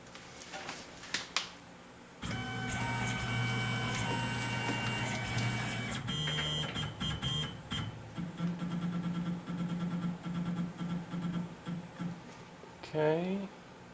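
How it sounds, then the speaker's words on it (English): A CNC machine begins machining a stainless steel plaque, starting abruptly with a loud, steady motor whine and a layer of tonal hum, followed by choppier pulsing cuts and a final rising whir as the spindle changes speed. "we will start machining here"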